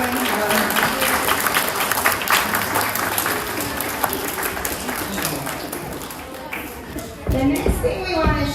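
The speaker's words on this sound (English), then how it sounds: "So round of applause for everyone who volunteered." Applause from a school audience for the volunteers, many hands clapping steadily and densely throughout, with children's voices mixed in and a brief lull before a final burst.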